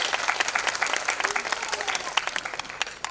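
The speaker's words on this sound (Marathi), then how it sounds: "आयशा मॅमसाठी एकदा जोरदार टाळ्या होऊन सौदर." A crowd at an awards ceremony claps loudly and steadily for an award winner, a dense continuous burst of applause.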